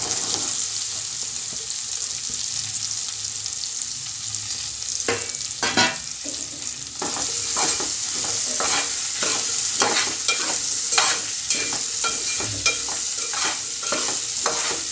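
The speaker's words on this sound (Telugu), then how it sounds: "ఫ్రై అవ్వాలండి ఇందులో ఆయిల్లో. ఆనియన్స్ ఫ్రై అయినాయి కదండి" Onions and green chilies frying in oil in a pan, a continuous sizzle with repeated spoon scrapes and clicks through the second half.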